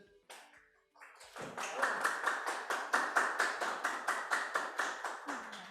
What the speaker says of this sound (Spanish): Un aplauso para la doctora Azucena